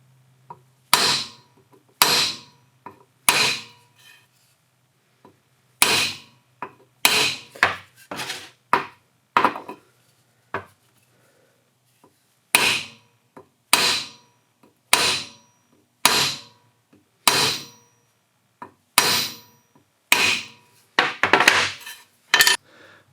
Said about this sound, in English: You have to place a peening hammer on it and strike it from above.